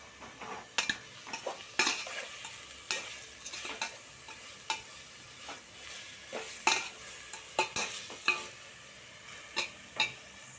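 Green chillies fry and sizzle in a pan for chicken biryani while a spoon stirs and scrapes against the metal in repeated sharp strokes, close and fairly quiet, with no talking.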